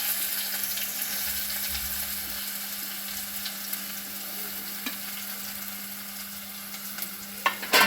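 Steady sizzling of chopped onions frying in hot oil until golden brown for mushroom gravy, with a few soft clinks and scrapes of stirring near the end.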